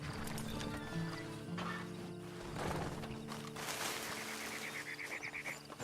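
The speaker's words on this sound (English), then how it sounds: "Then you better get on this horse." Horse hooves clip-clop in the Western video game Red Dead Online, a soft rhythmic patter under a layered, tonal game soundscape, with a faint whinny-like call partway through.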